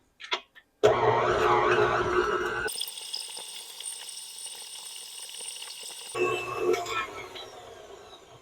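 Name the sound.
beating butter in a bowl for cake icing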